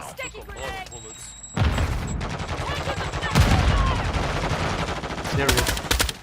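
Gunfire and a sticky grenade in a video game: loud, dense automatic shooting and blasts follow a quieter opening, with voices talking over the noise.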